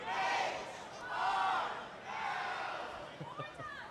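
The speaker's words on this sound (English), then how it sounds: "Can you hear them still chanting after the fight was over?" An arena crowd at a robot fighting championship chants in rising and falling waves after a flame fight ends, loud and sustained across the whole span with no clear speech.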